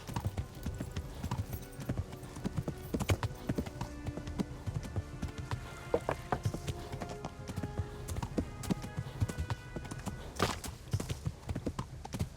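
Steady rapid hoofbeats of a galloping horse in the video game Kingdom Come: Deliverance, clip-clopping continuously and close, with a faint whinny and little else.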